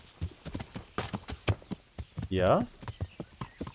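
Horse hooves clip-clopping in a steady walking rhythm while riding in Kingdom Come: Deliverance, with a brief snort or whinny midway and a voice talking briefly over it.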